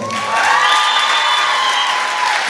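Concert audience at a solo show in Aktau in 2011 breaks into loud, sustained applause with cheering and whistles that swell quickly and hold steady, a large crowd close around.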